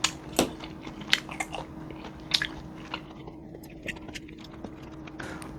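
Close, crunchy bites and chewing of meat at a table, several sharp bite transients early then softer mastication, with faint background voice murmur.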